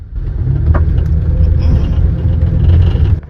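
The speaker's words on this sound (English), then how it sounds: "So I'm gonna hit the gas hard." A car with a transmission fault roars under hard throttle, its low engine rumble loud and sustained for about three seconds before cutting off abruptly.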